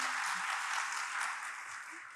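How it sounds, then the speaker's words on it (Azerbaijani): Audience applause fills a hall at a strategic marketing forum, a dense, steady clapping that holds for about two seconds before cutting off abruptly. "Bir dənə də siz onu alqışlayasınız ki"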